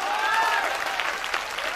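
Audience at an annual function applauds a speech, a sustained, fairly loud burst of many clapping hands, with a faint voice briefly audible at the start.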